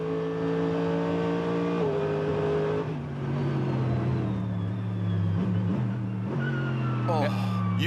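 Mercedes AMG GT race car onboard at the wet Sandown circuit, engine roaring loud and close with rising and falling revs and gear changes, under a commentator talking.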